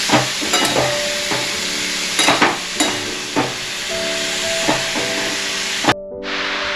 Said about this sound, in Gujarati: હવે આપણે એને બરાબર હલાવી લઈએ અને પછી એને થોડું ચડવા દઈએ આપણે છીણને